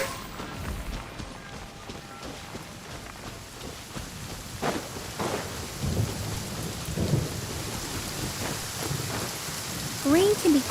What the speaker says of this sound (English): Rain can be quite troublesome sometimes.